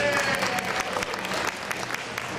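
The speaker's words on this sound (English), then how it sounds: "Please give her a round of applause" An audience applauds steadily with dense, even clapping that holds at a moderate level throughout, a continuous wash of many hands.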